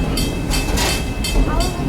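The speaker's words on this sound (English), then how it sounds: "Please remain seated until the train comes to a complete stop." A historic passenger train rolls on its rails through Greenfield Village, loud and close, with a rushing rumble and rhythmic bursts of wheel clatter across the tracks.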